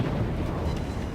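Battleship turret guns firing shells in World of Warships, aboard the Roma, a short heavy low rumble like a rolling boom that fills the whole moment without a clean single crack.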